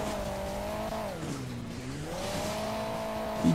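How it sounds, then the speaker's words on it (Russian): Truck driving in the Hill Climb Racing 2 game, a steady engine drone whose pitch dips and then climbs again as it drives, with a brief sharp sound near the end and no talk. "Фура, фура едет первым."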